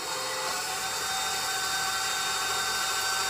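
An electric mixer whisks eggs and sugar for banana bread batter, a steady, loud mechanical whine that holds unbroken from start to end with no talking.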